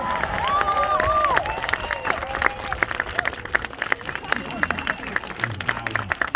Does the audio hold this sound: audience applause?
yes